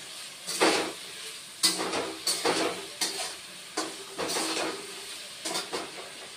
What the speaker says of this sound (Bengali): আর ভেজে রাখা আলু আর সজনাটাও দিয়ে দিচ্ছি।